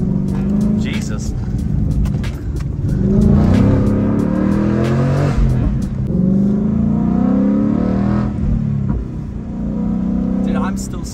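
A Ford Mustang with an aftermarket X-pipe or H-pipe exhaust rumbles and revs from inside the car. The engine swells and falls while people talk loudly over it.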